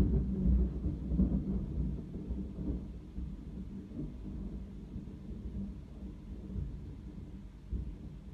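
A long, low rumble of thunder after a lightning strike rolls on steadily, with a heavier burst near the start and no voices.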